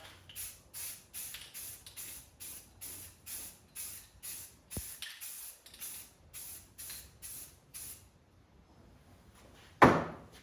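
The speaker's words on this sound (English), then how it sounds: "this is my third coat of primer that I'm putting on it right now" Repeated short hissing bursts of spray primer being applied as a third coat onto a scuffed anodized part for a 1971 Monte Carlo SS454, about a dozen even pulses, close and steady, then a pause and a sharp knock near the end.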